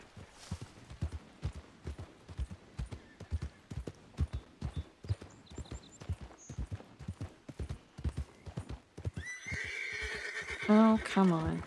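In a Red Dead-style western roleplay game, a horse's hooves clop in a steady walking rhythm. A close, loud whinny breaks out near the end, and faint voices sit under the sounds.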